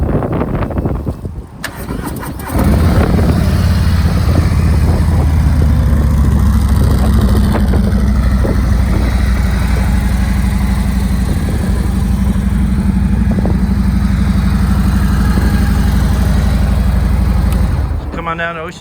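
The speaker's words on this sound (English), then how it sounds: "Let's start this bike so you can hear it run." A 2020 Harley-Davidson Road Glide Special cranks briefly, then fires up and settles into a loud, steady, rumbling idle that holds close and unbroken for about fifteen seconds.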